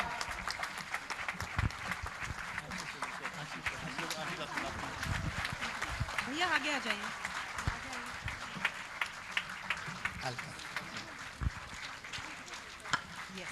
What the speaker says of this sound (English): A big round of applause as we do this.